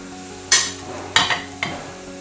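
A spatula scrapes and stirs shredded leftover idiyappam in a pan, giving three short scraping strokes over a faint steady background hiss.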